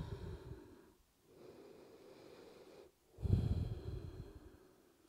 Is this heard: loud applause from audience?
no